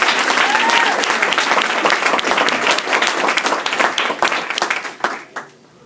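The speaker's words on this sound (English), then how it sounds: "Can we give them a round of applause?" A campaign kickoff audience for a Boston City Council candidacy bursts into a dense round of applause, loud and sustained for about five seconds before quickly tapering off to a few last claps.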